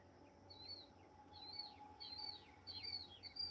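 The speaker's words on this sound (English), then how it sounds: "That is the acorn woodpecker." Acorn woodpecker calling near backyard bird feeders, a series of repeated sharp, raspy chirping calls at moderate distance over a steady low outdoor hum.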